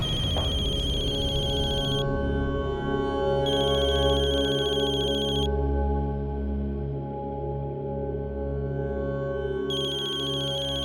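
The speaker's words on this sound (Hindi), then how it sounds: "किसका फोन है?" A telephone rings in repeated bursts, each about two seconds long with short pauses between them, over steady background music in an indoor domestic drama scene.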